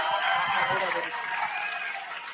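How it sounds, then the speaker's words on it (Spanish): Crowd at a book fair applauding for Ramiro, a steady wash of clapping heard at moderate distance, with voices mixed in. "Un aplauso para Ramiro."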